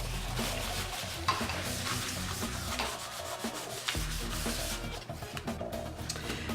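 Paper towels rubbed over distress ink on a craft surface, a continuous dry scrubbing and swishing close to the mic in uneven strokes, fairly quiet and unaccompanied by speech.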